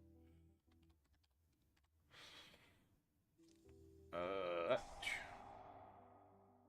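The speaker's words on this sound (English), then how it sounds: "I'm just typing." Quick, uneven keystrokes tap on a computer keyboard, soft clicks scattered through the clip with a louder flurry near the end, under quiet background talk and faint hum.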